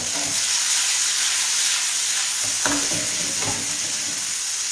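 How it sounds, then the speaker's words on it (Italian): Salted bite-sized chicken pieces, larded with fat, brown in a frying pan with a loud, continuous sizzle and hiss, broken by a few soft stirring clinks. "Facciamo rosolare un pochino."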